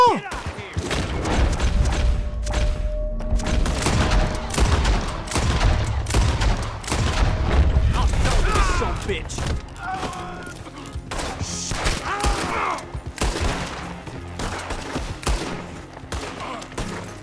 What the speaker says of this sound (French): Pourquoi il y a des sons de tir là-bas? Pourquoi ça tire?